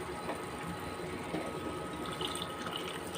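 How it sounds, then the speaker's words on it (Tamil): Water is poured into a cooking pan while making a quick kurma, a faint, steady splashing trickle for a few seconds with no talk. "கொஞ்சம் தண்ணி ஊற்றிக்கோங்க."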